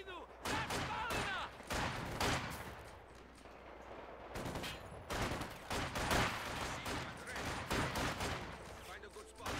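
Sustained machine gun bursts and scattered gunfire crackle through a Company of Heroes 2 battle on the Essen Steelworks map, loud and dense with repeated sharp volleys, mixed with shouted unit voice lines.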